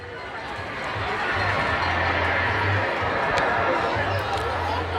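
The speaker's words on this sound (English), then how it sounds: "You hear the crowd loves that." Crowd noise from spectators at a high school football game between Woodbridge and Union, a steady, loud roar of cheering and chatter that swells after the first second and holds, with some voices in the mix.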